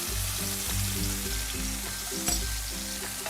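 Peri peri king prawns in a coconut-scented marinade sizzle and fry steadily in a hot pan, a close, continuous crackle with a few louder pops and a rhythmic thudding bed underneath, with no one talking.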